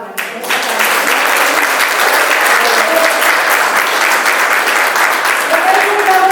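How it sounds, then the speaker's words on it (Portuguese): A church audience at a women's worship gathering breaks into loud, steady applause that continues without pause, close and full, with no talk over it. "Eu quero convidar vocês a aplaudir essa palavra."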